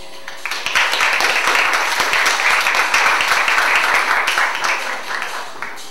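Warm applause greets a speaker at a science communication event, dense hand clapping from a seated audience that swells quickly, holds loud and steady for several seconds, then thins toward the end.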